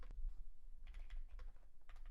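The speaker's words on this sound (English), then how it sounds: "He's furiously typing to Rumble support." Furious, rapid typing on a computer keyboard: a quick burst of light clicking keystrokes, close and uneven, with no talking.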